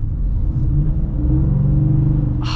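A 2023 Ford F-150 XL pickup with a 5.0 V8 revs in a deep, loud rumbling growl, its pitch rising and falling steadily, heard close with no talking.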